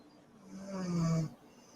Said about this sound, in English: You hear them snoring?